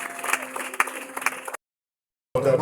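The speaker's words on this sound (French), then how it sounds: "Est-ce que nous pouvons donner une offrande d'acclamation à la parole de Dieu?" A church congregation claps in acclamation during a service, with about one and a half seconds of brisk, moderately loud applause, then an abrupt silence before a loud burst of noise returns.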